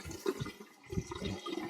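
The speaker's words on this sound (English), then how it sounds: "it's really getting a bit darker as it's flushing through that radiator." Water flushes out through a domestic heating radiator during a gas engineer's job, giving a steady, low gurgling rush with uneven surges, fairly quiet and continuous.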